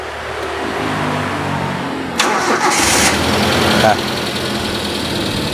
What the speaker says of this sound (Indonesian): kita udah starter. Ini yang stasioner. Suara stasionernya masih halus.